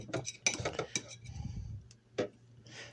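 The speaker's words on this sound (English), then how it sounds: "I just take the back of a spoon and line it just like that." A spoon scraping and tapping inside a microwave-safe bowl while spreading Crisco, giving close, quiet clinks and smears in short bursts with pauses between.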